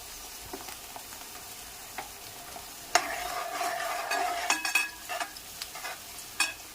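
Green chillies frying in hot oil in a pan for a mutton curry, a soft sizzle that swells into a louder crackling burst as they hit the pan, with stirring scrapes throughout.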